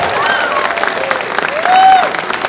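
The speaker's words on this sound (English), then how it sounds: "So a big round of applause for Cosmic Woofy" Convention crowd at an opening ceremony applauding and cheering for a fursuiter guest of honor, a steady wash of clapping with a brief whistle-like cheer rising above it, a voice faintly mixed in.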